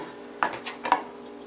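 A cooked potato being sliced in half while making salmon patties and fries: two brief, soft knife-and-plate contacts spaced about half a second apart, close and quiet with no talking.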